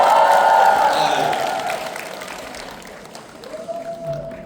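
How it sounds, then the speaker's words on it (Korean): A seminar crowd claps and cheers loudly at first, the applause gradually fading, before a single voice begins speaking over the dwindling noise. "환호가 너무 작습니다"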